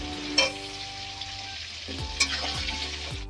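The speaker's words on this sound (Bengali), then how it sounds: "আলুটাকে ভাজা করে নিচ্ছি।" Potatoes fry in a pan with salt and turmeric, giving a steady close sizzle throughout, broken by a few sharper stirring clatters and spatters, with no voices.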